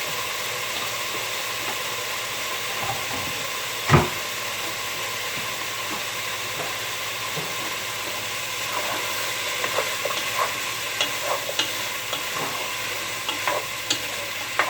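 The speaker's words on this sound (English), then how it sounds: "you're just going to do those up a few minutes to just get a little brown on them" Chicken and onions sizzle in olive oil in a stew pot, a steady frying hiss broken by a sharp clatter of stirring near the start and scattered pops and scrapes later, all close and with no talk.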